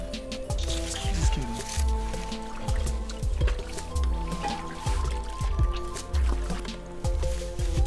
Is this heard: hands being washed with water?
yes